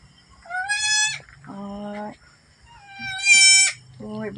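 Newborn twin goat kids on a rural farm bleat in high, wavering cries, two long calls alternating with lower, shorter bleats, close and fairly loud with faint background noise.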